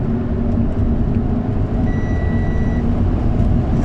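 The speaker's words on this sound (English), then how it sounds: "you guys heard that beep? That's just my speed alarm." A car's speed alarm sounds a short series of thin electronic beeps over a loud, steady engine and road drone inside a fast-moving car running a water-methanol injection kit.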